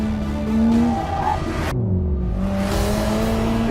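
A 2014 Lingenfelter C7 Corvette's tires squeal under hard driving, a long sliding screech with engine drone, then a sudden cutoff before the squeal resumes, loud and close.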